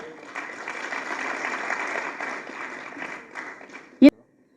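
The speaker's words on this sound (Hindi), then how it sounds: "तालियों से इनकी हौसला अफजाई करें।" Audience applause at an International Women's Day celebration of the Jammu and Kashmir Rural Livelihoods Mission, moderate clapping that tapers off over a few seconds, ending with a sharp thump.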